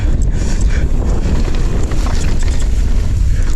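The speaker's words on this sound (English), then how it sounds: "Got some wind coming up here." Strong wind rushes across the microphone while riding a YT Capra mountain bike uphill, a loud continuous buffeting roar that fills the whole clip with no talking.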